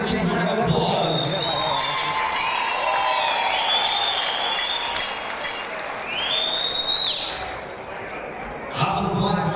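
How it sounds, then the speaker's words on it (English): A crowd claps for two fighters after a bout at a fight event, steady applause mixed with cheering, overlaid by loud whistles and shouted voices in the middle and a burst of noise near the end. "Ladies and gentlemen, please give these warriors a big round of applause"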